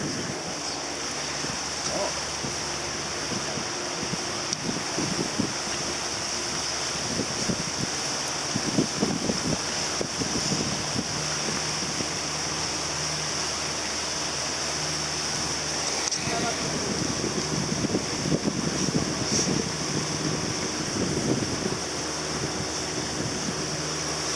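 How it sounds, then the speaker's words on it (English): On a ferry, strong wind buffets the microphone over a steady rush of water and engine rumble, continuous throughout with occasional louder gusts. "Now on our ferry boat."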